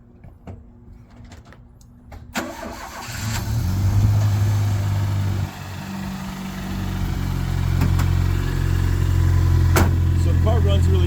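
Classic car engine starting: a few clicks and clunks, then the engine catches and settles into a steady, throaty idle that grows louder and continues, heard close by.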